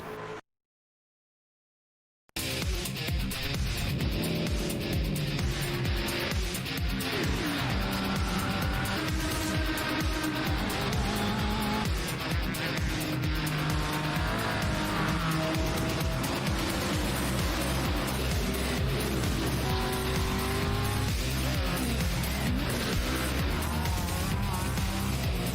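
eNASCAR stock cars race around Darlington in iRacing, engines droning loudly and continuously as several cars run close together. A commentator talks over the engine noise.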